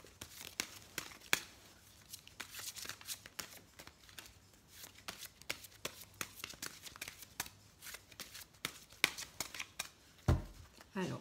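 A deck of angel-themed oracle cards is shuffled by hand in rapid, papery riffles and flicks, close and fairly quiet, with a few sharper snaps and a dull thump near the end.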